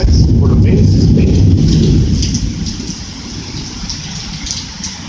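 Thunder rumbling during Hurricane Hermine, a loud low roll at the start that fades over a few seconds, mixed with heavy rain and wind hiss.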